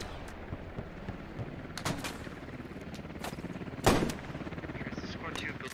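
Gunfire in the video game Squad: scattered shots crackle over a constant noisy battlefield bed, with one louder, heavier burst partway through and a few distant reports around it.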